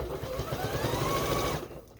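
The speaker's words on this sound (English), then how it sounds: "I am going to sew over that seam, just back stitch a little bit." A sewing machine runs at a fast, even whir as it stitches over the seam of a quilt's binding, then stops abruptly near the end, heard up close with no talking.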